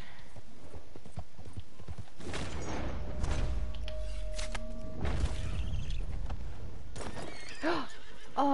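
A horse whinnies loudly several times amid clip-clopping hooves and background sounds from the video game Red Dead Redemption 2, with a brief high whinny near the end.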